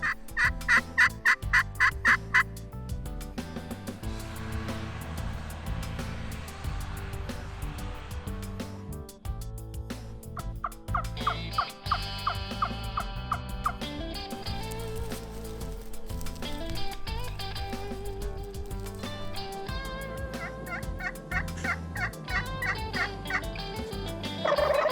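Wild turkeys gobbling repeatedly in rapid, rattling bursts during a hunt on public land, some louder and nearer, others fainter in the distance, over a soft outdoor background.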